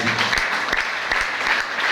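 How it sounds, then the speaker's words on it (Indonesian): Steady applause from a church congregation, a continuous patter of clapping that fills the whole moment. "Tepuk tangan bagi Tuhan."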